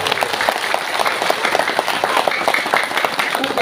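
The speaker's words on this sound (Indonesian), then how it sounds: "Tepuk tangan untuk beliau" Applause from a large crowd at a religious sholawat gathering, dense steady clapping lasting a few seconds.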